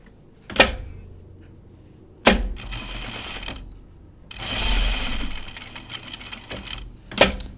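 A sewing machine runs in short top-stitching bursts through fabric, several separate runs of rapid whirring stitches with sharp starts and brief pauses between them, close and fairly loud.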